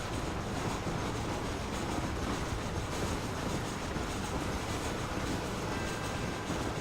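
A steam train rumbles along the rails in Red Dead Redemption, a steady, moderately loud clatter of wheels and running gear that fills the whole stretch without pause.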